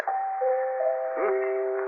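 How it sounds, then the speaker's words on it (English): A musical doorbell rings a short, clear melody of bright chime tones, loud and near, with nothing else heard. "Chimes of Normandy. Very musical doorbell."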